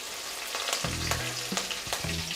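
Steady sizzling of chopped green chilies frying with ginger and garlic in a hot pan, with a few clinks and a low hum from the cooktop.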